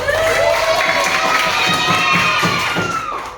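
Schoolchildren in a classroom cheer and clap at the end of a lesson, a loud, continuous burst of excited young voices shouting over scattered applause, close and filling the room.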